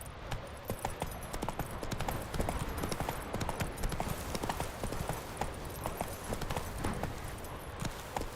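Roach, Geralt's horse in The Witcher 3, gallops through open country, a rapid continuous hoofbeat rhythm pounding close and loud from start to finish.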